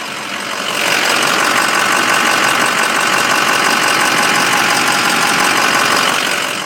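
A 2005 Ford F250 4x4 diesel pickup idles steadily close by, a dense rumbling clatter that rises after a brief quieter start and holds even and loud with no talk.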